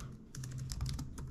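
Keys tapped quickly on a ThinkPad T440p laptop keyboard while a terminal command is entered: a short, faint run of soft irregular clicks, close and alone.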